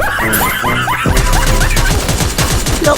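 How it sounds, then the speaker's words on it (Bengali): Rapid automatic gunfire in the mobile shooter Free Fire, a loud, dense burst of repeated shots rattling continuously over game effects and music. "তাকে আমি একটু ফায়ার দিলাম"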